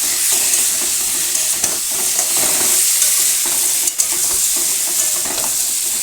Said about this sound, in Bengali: আর এখানে আলুর দমটা রান্না করতে তাই লঙ্কাটা দিয়ে দিলাম